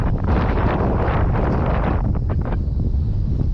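Strong wind buffets the microphone outdoors on a frozen lake during winter ice fishing for smallmouth bass, producing a loud, continuous low rumble with gusty surges and no talking.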